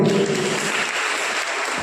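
Applause from the audience at an Onam celebration prize-giving held at a Gurudeva temple, a brief burst of clapping for a prize winner that starts full and tapers slightly.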